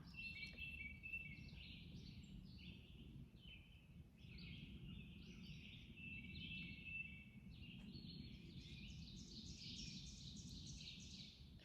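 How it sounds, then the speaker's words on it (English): Several birds sing bright, warbling phrases through a morning on the Appalachian Trail, fairly distant and soft over a steady low background hush, with no voices. "You can hear the birds, of course."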